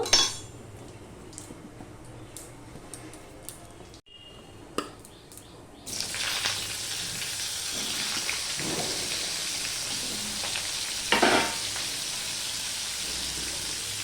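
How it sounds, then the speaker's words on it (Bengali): Potatoes fry in spice-tempered oil for a vegetarian broccoli dish. A few utensil clinks come first, then a loud, close, steady sizzle takes over, with occasional stirring scrapes and no talking. "দেখো বন্ধুরা ওইদিকে আলুটা ভাজা হতে হতে"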